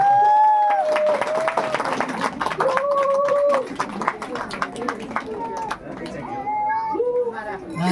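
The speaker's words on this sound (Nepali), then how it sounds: "हामी सबैजना ताली बजाउँ" A wedding congregation claps together, a busy patter of hands mixed with loud overlapping voices and tonal calls for most of the stretch.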